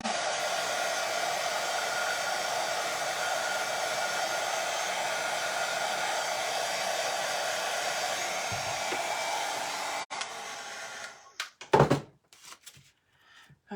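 A hair dryer blows steadily and loudly for about ten seconds while drying something during a room decorating project, then cuts off, followed by a few knocks and handling sounds.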